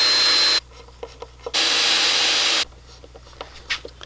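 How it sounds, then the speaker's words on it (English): A screw is driven into wood on a DIY bass guitar build. Two loud, steady bursts of a power driver whir close by, separated by quieter handling clicks and taps. "Just one more screw in and take a look at it."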